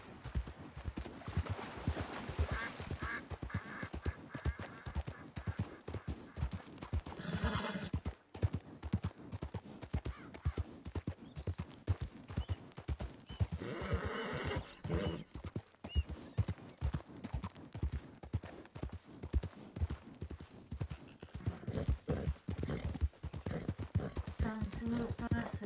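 In a Western roleplay video game, a horse's hooves clop in a steady, continuous rhythm over a long stretch, with voices talking over the hoofbeats.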